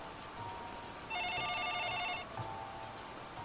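A telephone rings once in a trilling burst lasting about a second, over a steady background hiss like rain.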